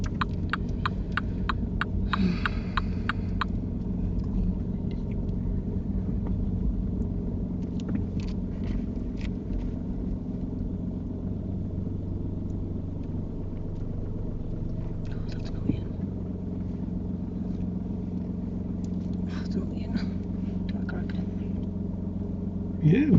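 A car on a driving test, with a steady low engine and road rumble running throughout, people talking quietly over it and a few brief clicks.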